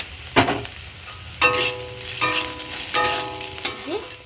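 Green chilies sizzling and being stirred in a pan with boiled vermicelli, loud bursts of frying at each stir separated by quieter crackle, no talking.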